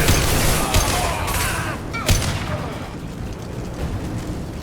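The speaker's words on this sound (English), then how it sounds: "Firing an impact shot." An impact shot fired in Mass Effect 2 amid a loud, dense game battle, with sharp cracks and booms over a constant roar of combat noise.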